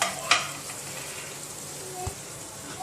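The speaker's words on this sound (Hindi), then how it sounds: "जो हमने गरम मसाला डाला था इसको अच्छी तरह से कर देंगे मिक्स" Chicken keema with capsicum and garam masala is stirred in a pan, giving a soft, steady sizzle with light scraping and one sharp clink of the spoon early on.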